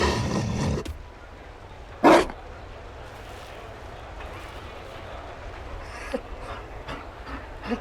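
Mabari war dog in Dragon Age: Inquisition barking a few times, one sharp loud bark standing out near the start and fainter yaps later, over a low ambient game hum.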